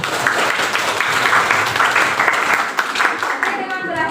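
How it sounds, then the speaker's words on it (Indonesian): A classroom of students claps together in steady applause, a dense patter of many hands filling the room at close range before tapering off near the end. "Ya, tepuk tangan untuk kalian."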